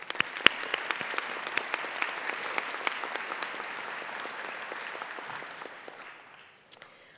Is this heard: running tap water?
no